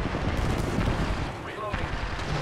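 Gunfire in Apex Legends rattles through a short burst of shots at moderate distance over a dense, busy game soundscape, and a voice can be heard around it.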